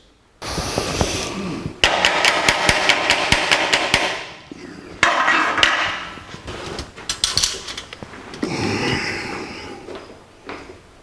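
A hammer taps a 1949 Chevrolet gasser's front axle into position, sharp metallic strikes in quick irregular bursts with pauses between, loud and close, with brief clatter and shuffling in the gaps.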